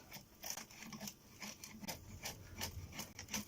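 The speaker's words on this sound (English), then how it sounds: "I'm using my chisel because just getting this." A chisel scraping magnetic viewing film off a rotor: quiet, rhythmic rasping strokes that repeat roughly every half second, close and alone.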